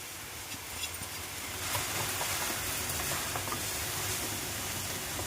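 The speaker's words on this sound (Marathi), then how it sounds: "आणि रवा आता छान परतून घ्यायचा" Roasted semolina stir-fried in a pan with onion and tomato gives a steady, close sizzle with light scraping of stirring, continuous and fairly quiet, with no voices.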